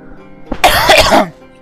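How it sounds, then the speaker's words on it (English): One rough, close cough from a person playing Railroads Online, a short harsh burst after a faint breath, then quiet. "I have a little bit of a cough right now"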